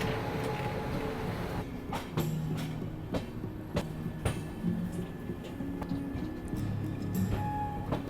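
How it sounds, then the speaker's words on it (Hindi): A passenger train leaving Danapur station in Bihar toward Patliputra rumbles steadily along the rails as heard from on board, with sharp rhythmic wheel clacks over the joints and occasional faint squeals. "हमारी ट्रेन यहाँ से निकल सीधा पाटलिपुत्र की तरफ।"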